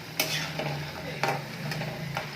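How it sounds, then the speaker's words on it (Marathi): Dried mixed-lentil dumplings (sandge) fry in a pan with a constant oily sizzle, broken by three scraping stir strokes of a spatula, close and clear. "अशा प्रकारे व्यवस्थित तळून झाले की आपण ते काढून घ्यायचे"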